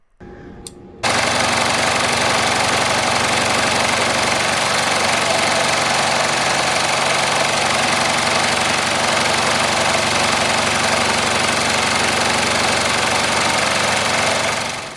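Embroidery machine stitching a side seam bow applique on a hooped shirt, a steady, loud rapid mechanical chatter with a rhythmic knocking pulse running continuously after a brief quiet start.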